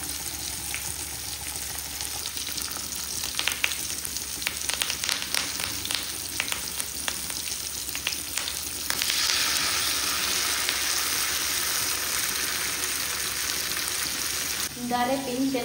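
Masala fries in a non-stick pan with a steady, close hiss and crackle, broken by occasional scraping stirs. The sizzle grows louder and denser partway through.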